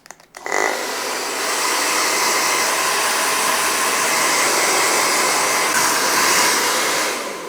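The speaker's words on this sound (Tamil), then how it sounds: "ஸோ ஃபர்ஸ்ட் கோம்பெல்லாம் யூஸ் பண்ணுறதுக்கு முன்னாடி லைட்டாக ஹேரை ட்ரை பண்ணி எடுத்துப்போம்" A hair dryer runs steadily at close range, blow-drying a man's hair before combing, with a loud continuous whoosh that starts after a few brief clicks and holds without talk.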